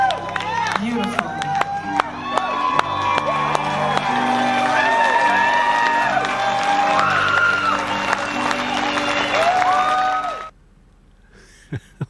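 A large concert crowd cheers, whoops and applauds in a dense, loud roar that holds steady for about ten seconds and then cuts off abruptly to near silence with a few faint knocks.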